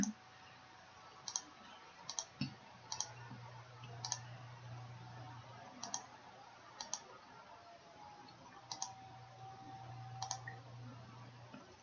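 Around a dozen soft, sharp mouse clicks land at uneven intervals while layer light bulbs are toggled in AutoCAD, heard close over a faint background hum.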